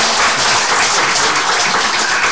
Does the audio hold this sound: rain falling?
no